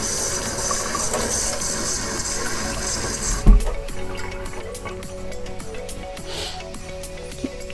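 Running water rinses the inside of a dyed Blythe doll scalp, a steady close splashing flow that stops partway with a thump, leaving softer drips and handling noises.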